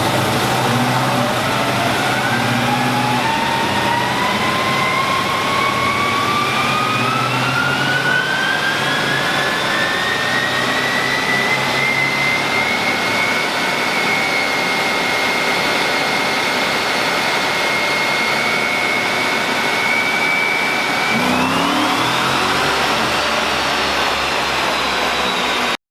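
A supercharged 2014 5.7-litre V8 in a Chevy C10 truck revving hard on a dyno, its pitch climbing steadily with a high supercharger whine, then backing off, dipping and surging again near the end, loud and close.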